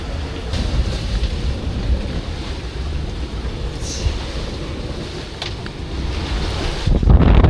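Strong wind roars steadily across the microphone aboard a Contessa 26 sailing yacht beating down the Bristol Channel at sea in 20–25 knots, with water rushing and slapping against the hull throughout and a louder gust near the end.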